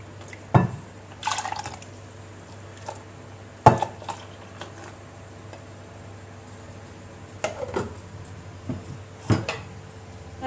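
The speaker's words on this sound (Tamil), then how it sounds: "இது தக்காளி வேக வச்சுருந்தோம்லே அந்த தண்ணியை ஊற்றி கலந்து" Tomato cooking water poured into a pot of tomato kuruma and stirred in, with scattered clinks of a utensil against the pot, brief liquid splashes and a steady low background hum, no talking.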